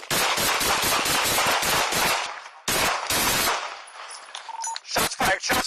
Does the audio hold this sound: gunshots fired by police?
yes